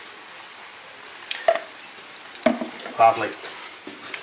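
Hot oil sizzles softly for mini Yorkshire puddings, with a low crackle throughout and a few louder spits and flares; a voice speaks briefly over it.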